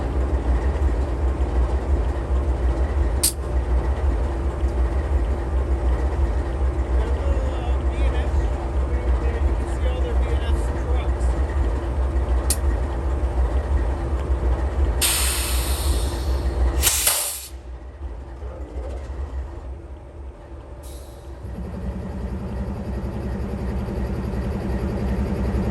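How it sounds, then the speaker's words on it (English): BNSF coal train led by GE C-44 and EMD SD-70 Ace locomotives rolls past nearby, a steady heavy rumble of wagons with hissing and clanks, then the sound drops abruptly as the train moves on; a voice can be heard in the background. "This coal train is being led by an old C-44 GE locomotive, number 5681."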